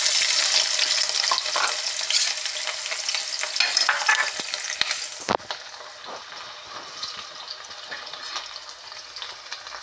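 Sliced onions and green chillies sizzle loudly in hot oil for a chicken curry, with steady crackling and scraping stirs throughout, a sharp clatter midway, then a slightly quieter continued fry.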